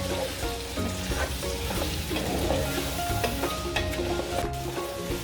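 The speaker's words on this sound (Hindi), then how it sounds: "अब वो इसमें हम डाल देते हैं और एक बार हम अच्छे से भुनाई करेंगे ताकि जो मसाला है चावल में अच्छे से लग जाए।" Basmati rice and masala being stir-fried in a pot: steady loud sizzling with a spoon scraping and stirring throughout, close by and without talk.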